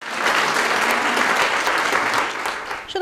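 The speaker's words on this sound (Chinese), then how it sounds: "受到热烈掌声欢迎" An audience at a Taitung county government briefing breaks into warm, continuous clapping that starts almost at once, stays full and even through the clip, and tapers off toward the very end.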